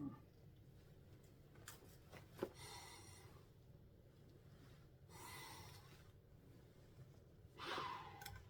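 Breathing through a Romanian M74 gas mask: muffled inhales and exhales at an irregular pace, with a sharp puff near the start and louder hissing breaths toward the end, close and fairly quiet.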